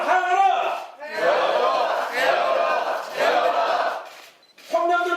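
Protest crowd chanting a slogan in unison at a Korean political rally over housing prices, several loud shouted bursts with brief pauses between.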